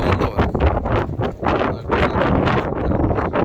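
Gusty southwesterly lodos wind buffets the microphone in loud, rumbling bursts that swell and drop, with a brief lull partway through, while flying pigeons.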